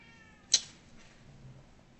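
A single short cat meow sounds near the middle, fairly close and moderately loud, followed by quiet room tone with no talking.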